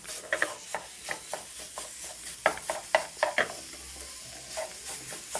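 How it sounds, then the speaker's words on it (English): Minced beef fries in a pan while a spatula breaks it up, a run of sharp scraping taps over a low steady sizzle, close and busy, with no voice. "So begin by adding a small bit of minced meat"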